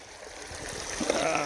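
Water runs steadily through a gold prospecting sluice outdoors, a continuous rushing trickle with splashy texture that swells slightly toward the end, with no voices.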